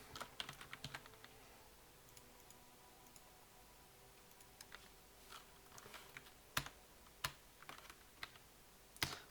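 Computer keyboard keys pressed in scattered clicks and short bursts, fairly quiet and close, with sharper single taps toward the end and no talk.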